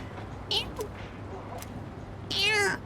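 A cat in the Persona 3 Reload video game gives short meows, one early and a longer, louder one near the end, over a low, steady background hum.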